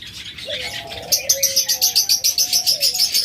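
Caged pet lovebirds and budgerigars chirp up close, with sliding whistled calls giving way to a rapid, rhythmic run of bright repeated tweets.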